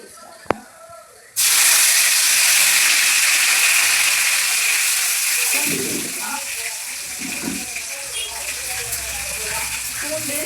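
Curry leaves, onion and garlic hit hot oil for a fish curry, setting off a sudden loud, steady sizzle that continues strongly, then eases slightly as the pieces settle.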